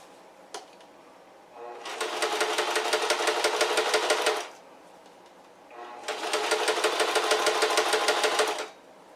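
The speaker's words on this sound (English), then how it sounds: "Glad to see how the sewing machine works." A sewing machine stitching shorts runs in two bursts of rapid, even needle clatter, each lasting a few seconds with a short pause between, close by and fairly quiet.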